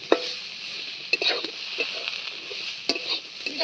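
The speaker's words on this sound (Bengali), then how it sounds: "আলুটা বেশ কিছুক্ষণ চিংড়ি মাছের সঙ্গে ভাজা ভাজা করে নিয়ে দিয়ে দিল পরিমাণ মতো হলুদ গুঁড়ো।" Potatoes fry with shrimp in a hot pan, sizzling steadily while a utensil scrapes and stirs in repeated sharp clacks, close and clear with no talk.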